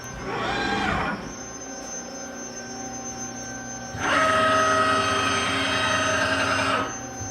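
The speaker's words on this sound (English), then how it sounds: "The machine is slowly coming down to the workpiece, and as soon as it triggers, it will move back up 1/4 of an inch" A CNC machine in a job shop moves slowly down to touch off on the workpiece for auto tool zero, a steady motor hum with two louder whirring stretches as the axis drives, close and alone.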